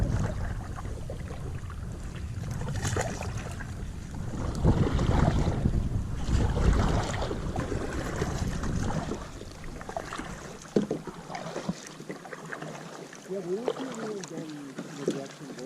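A kayak on Lake Powell in heavy wind, with buffeting wind noise on the microphone and sloshing water and paddle strokes close by, calming near the end, where faint voices can be heard.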